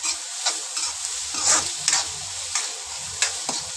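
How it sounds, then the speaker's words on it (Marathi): Food being stirred and roasted in a pan until reddened while cooking spicy Mumbai street-food chole with potatoes, a steady sizzle with repeated scraping and clinking stirs, close and clear with no talking. "तर याला आपण लाल होईपर्यंत मस्तपैकी भाजून घेणार आहे"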